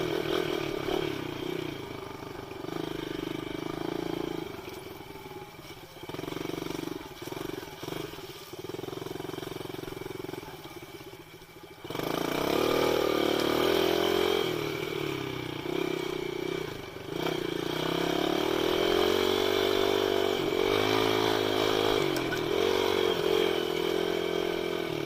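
A dirt bike engine revs and clatters while being ridden, loud and close, dropping to a rougher, lower running note midway before surging back up into sustained high revving.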